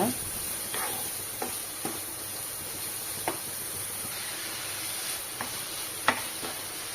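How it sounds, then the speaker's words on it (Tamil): Grated carrots sauté in a hot pan for an instant carrot pickle, with a steady soft sizzle and hiss plus scattered faint scraping taps of a spoon stirring. "இப்போ நம்ம துருவி வச்ச கேரட்டை இதில் சேர்த்துக்கலாம் இதுவும் நல்லா வதக்கிக்கோங்க"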